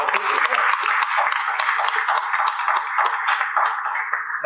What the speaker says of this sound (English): Now, yeah, we can applaud them.